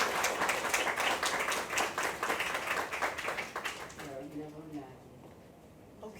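An audience at a domestic partner violence conference applauds with a burst of clapping that fades away, followed by a voice speaking.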